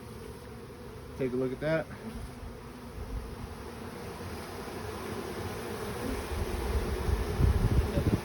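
A large honeybee swarm being caught outdoors gives off a dense, steady buzzing drone that thickens toward the end, with brief speech near the start and light wind.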